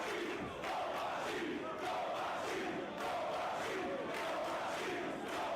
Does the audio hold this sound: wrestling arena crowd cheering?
yes